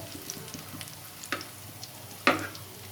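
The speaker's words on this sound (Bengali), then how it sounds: "এখন এটা হয়নি, আর একটু গ্যাস হাই করে ভেজে নিতে হবে" Stuffed spiny gourd (kakrol) frying in a pan over a gas flame, a soft steady sizzle with a couple of sharper spatula scrapes and clatters close by.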